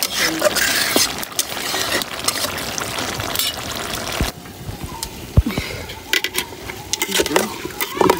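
Khichuri fries in a pot with separately rendered fat from a sacrificial cow, with steady sizzling, scraping stirs and occasional clinks of utensils against the pot.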